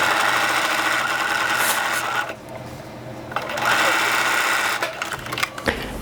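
A sewing machine runs steadily, stitching narrow gathering or basting lines on a dress sleeve for a New Look 6511 pattern, with a brief pause midway before the motor resumes; its whirring fills most of the stretch.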